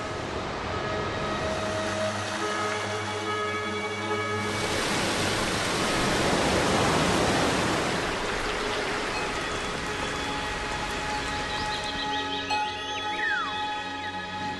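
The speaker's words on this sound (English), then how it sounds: "This is the origin of the rain, which rushes down in countless waterfalls." Countless waterfalls rushing down the slopes of Roraima in Venezuela, a steady broadband roar of falling water that swells slightly in the middle, continuous and enveloping with no voices.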